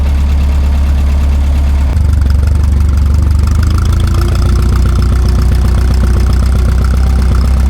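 Old work machine nicknamed the jet, the farm's workhorse, running outdoors on a calm day: a loud, steady low engine drone that shifts slightly in pitch early on, then settles into a constant idle rumble with no talking.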